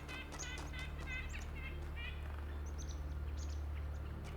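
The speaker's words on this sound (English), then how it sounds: "Loud bird." A loud bird call rings out in the video game The Talos Principle II, a series of bright, repeated chirping phrases over a steady low ambient hum, sounding near and prominent.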